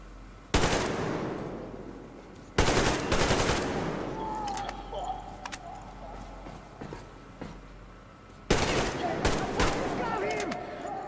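Bursts of AK rifle fire in Metro Exodus, sharp loud volleys near the start, the middle and the end, with echoing tails and quieter rustling and movement between them.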